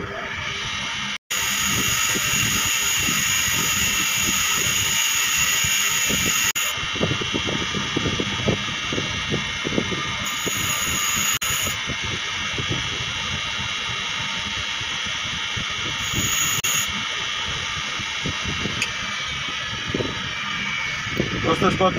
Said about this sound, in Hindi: ये हमारा ग्राइंडर मशीन लगा हुआ है और इस पर आपको घिस के दिखाते हैं।